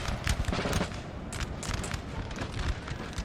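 Massed infantry musket volleys in a Napoleonic Total War multiplayer battle, a dense rolling crackle of overlapping shots with deeper booms underneath, continuous and loud throughout.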